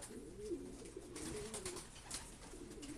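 Soft, low pigeon cooing repeats in gentle rolling phrases, fairly faint, over a quiet outdoor background.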